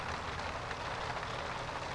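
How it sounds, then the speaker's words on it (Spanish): Hail pours down in The Sims 3 as a dense, continuous patter, a steady hissing clatter of falling ice that stays even throughout the short stretch, with no talking. "no está lloviendo, está granizando."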